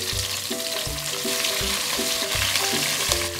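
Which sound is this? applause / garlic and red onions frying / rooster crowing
garlic and red onions frying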